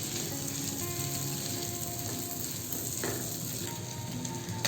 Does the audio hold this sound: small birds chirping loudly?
no